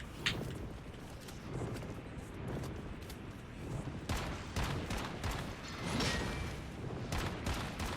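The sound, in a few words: shotgun fire from the video game Once Human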